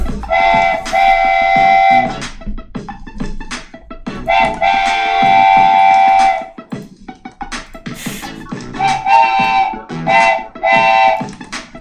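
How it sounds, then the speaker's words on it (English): A train pulls out of a station, with loud repeated horn blasts in bursts over a rumbling, clattering rail noise, close by and dominating throughout. "That was just the HT train leaving the station."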